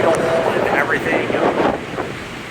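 Cold wind buffeting the microphone on the deck of a Seattle-Bremerton ferry, a loud, continuous rumbling roar with a person talking over it.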